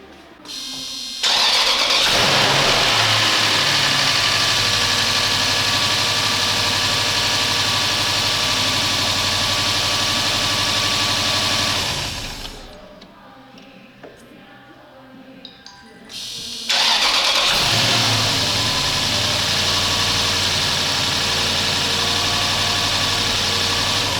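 A Toyota Land Cruiser 200 engine with a misfire cranks and catches, then runs loudly at a steady idle; it cuts out briefly before starting again and idling on, close up.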